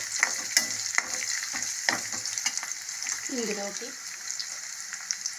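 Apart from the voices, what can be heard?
green chillies and dried red chillies frying in oil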